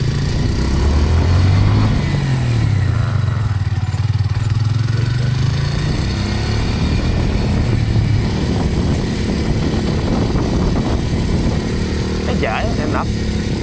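A classic-style Kawasaki motorcycle engine (W230 or Meguro S1) drones steadily while riding, its pitch rising and falling with throttle, loud and close, with wind rush throughout.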